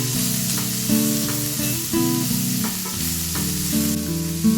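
Cumin, dried chillies and finely chopped onion sizzle steadily in hot oil for a masala khichdi, a continuous crackling hiss running beneath prominent background music.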